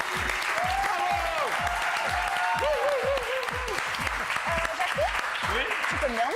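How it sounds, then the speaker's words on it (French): Loud audience applause in a French talent show studio, dense clapping heard under someone speaking in a rising, animated voice, with rhythmic low thumps pulsing steadily underneath. "veuillez applaudir très très fort les pieds de Kelly"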